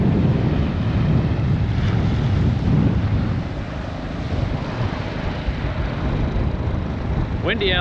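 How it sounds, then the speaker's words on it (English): Strong gusting wind buffets the microphone on a Gulf Coast beach at Magnolia Beach, Texas, with a steady loud roar that swells and eases, surf likely mixed underneath. "Windy out today."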